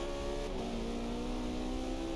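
Racing car engine in the driving game Forza Motorsport 5 holding a steady, loud, buzzing drone with a slight rise in pitch, heard alone without talk.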